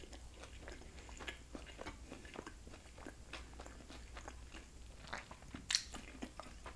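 Close-up crunchy chewing of blackened mahi mahi tacos with crispy tortillas and crunchy cabbage, a steady run of crisp bites and crunches, quiet and intimate, no talking.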